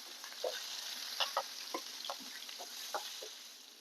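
Garlic and three to four chopped green chillies fry in oil with asafoetida for a cabbage stir-fry, a steady faint sizzle broken by scattered sharp pops and spatters.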